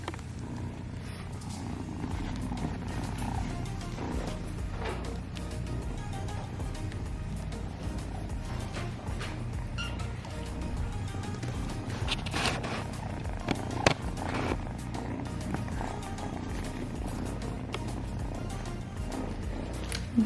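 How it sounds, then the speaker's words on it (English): Several pet cats purr continuously up close, a soft, steady rumbling drone at low volume lasting the whole stretch, with faint small rustles and clicks now and then. "They literally purr like crazy."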